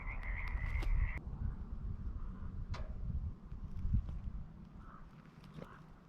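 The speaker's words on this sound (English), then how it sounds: "It appears that the frogs at least are happy in this wildlife area." Frogs croak repeatedly in a quiet wildlife area at Riffe Lake in the Cowlitz River Valley, with soft, scattered calls set against low outdoor background noise.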